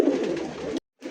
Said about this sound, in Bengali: এটা হচ্ছে নর কবুতর